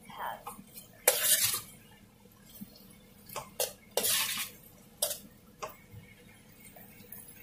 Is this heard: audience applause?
no